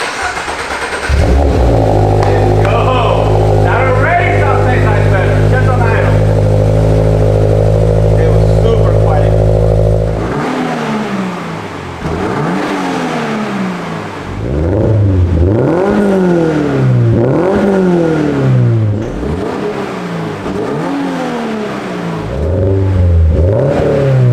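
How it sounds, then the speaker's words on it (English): A 2022 Subaru BRZ engine idles with a steady drone, then revs repeatedly through a new MagnaFlow exhaust, each rise and fall rhythmic and close, with voices at times. "we're gonna hear our MagnaFlow exhaust system for the first time"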